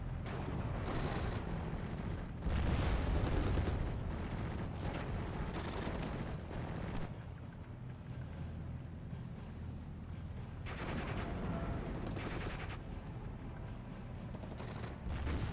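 Machine gun and artillery fire in the WWII strategy game Steel Division 44, with an infantry unit's twin Brownings firing and HE rounds answering, heard as a steady dense rumble of distant bursts and booms, continuous throughout with no talking.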